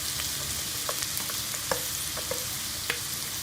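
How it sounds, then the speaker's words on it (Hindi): Onions and green chillies frying with softened chicken in a hot pan give a steady, close sizzle, with a few light stirring clicks scattered through it and no talking. "अब हम इसमें प्याज और हरी मिर्चें डाल देंगे"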